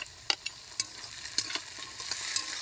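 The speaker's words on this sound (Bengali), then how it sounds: "টমেটোটা দিয়ে একটু নাড়াচাড়া করে নেওয়া হচ্ছে।" Tomato frying in a pan with peas, onion and garlic, stirred with a spoon: a steady close sizzle punctuated by several sharp scraping knocks against the pan, with no voices.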